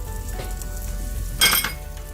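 A burger patty topped with Havarti cheese sizzles under a cover, a steady close frying hiss with a brief louder burst of crackle midway.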